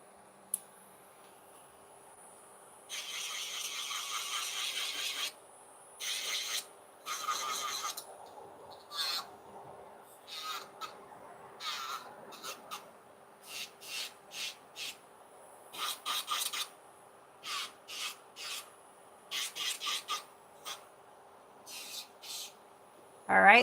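Electric nail drill running at about 9,000 RPM filing fingernails, heard as short broadband grinding bursts of uneven length, some long and some quick, separated by brief pauses, close and fairly quiet.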